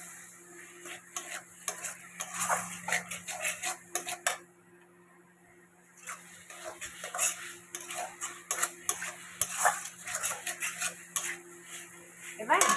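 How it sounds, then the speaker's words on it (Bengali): Spice paste is stirred and sautéed in a pan for a spicy Bengali fish curry, with a utensil clinking and scraping steadily against the metal over a faint sizzle. A short quieter pause falls in the middle, and a voice speaks now and then. "একটু মশলাটা কষাতে থাকি"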